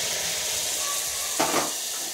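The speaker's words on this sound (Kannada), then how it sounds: "ಎಣ್ಣೆ ಬಿಸಿ ಇದೆ, ನಾವು ಮಾಡಿಟ್ಕೊಂಡಿರೋಂಥ ಪೇಸ್ಟನ್ನು ಆ್ಯಡ್ ಮಾಡ್ತಾಯಿದ್ದೀನಿ." Spice paste hitting hot oil in a pan for vegetable huli gojju, giving a steady close sizzle and hiss that swells into a brief louder burst near the end, with no talking.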